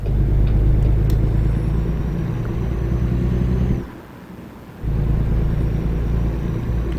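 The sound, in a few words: car driving past in American Truck Simulator video game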